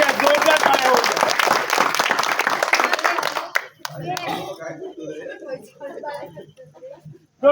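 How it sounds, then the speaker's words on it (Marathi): Dense audience clapping at a village magic show for Ganesh Jayanti, loud and steady for about three and a half seconds, then cutting off into someone speaking over quiet background. "जोरदार टाळ्या होऊ द्या जोरदार टाळ्या होऊ द्या"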